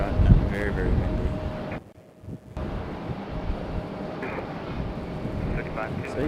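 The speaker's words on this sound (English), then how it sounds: "it has definitely gotten very, very windy" Strong wind roars and buffets outdoors at Raleigh-Durham International Airport in a steady low rumble, briefly cutting out near the middle before gusting back in, with faint voices underneath.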